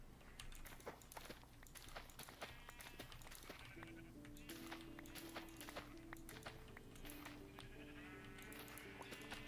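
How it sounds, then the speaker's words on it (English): Sheep bleat in a farming video game, several calls rising over a steady busy background of footsteps and game ambience, with no talk over them. "I think I'm gonna breed the sheep."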